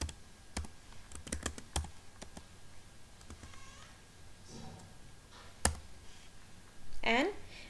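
A command being typed on a computer keyboard, a quick run of light key clicks followed by sparser taps, with a cat's meow rising near the end.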